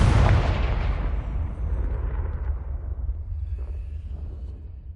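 Explosive Confringo spell blasts in the Hogwarts Legacy video game during a fight with goblins and werewolves, a loud booming burst that rolls into a long rumbling decay with no talk.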